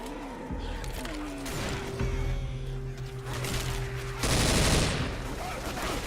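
Gunfire bursts in a video game shootout, with rapid shots, engine-like drones and a loud blast near the end, under a dense, busy soundscape with some voice.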